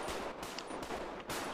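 Bursts of rapid video game gunfire crackle in quick succession, loud and harsh, with short pauses between volleys.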